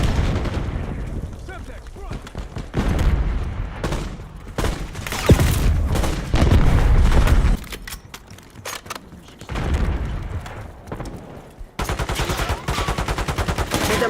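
In a multiplayer shooter, bursts of rapid gunfire and heavy booms from a concussion grenade come and go in loud waves, with a brief lull in the middle.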